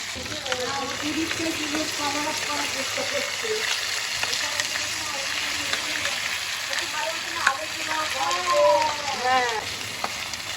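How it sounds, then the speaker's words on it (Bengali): Marinated chicken pieces browning in hot oil on an induction cooktop, a steady close sizzle with faint squeaking and scraping of a utensil, no talk. "আমি চিকেনের পিসগুলোকে, ম্যারিনেটেড চিকেনের পিসগুলোকে একে একে তেলের মধ্যে দিয়ে একটু উল্টে পাল্টে ব্রাউন করে ভেজে নিচ্ছি"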